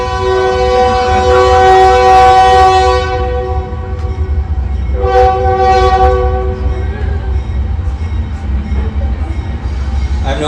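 A train passes close by, sounding its horn in long, loud, harmonic blasts, then a second shorter blast, with a steady rumbling roar of the rail cars continuing throughout.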